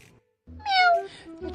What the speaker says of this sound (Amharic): ድመቷ እኮ ናት።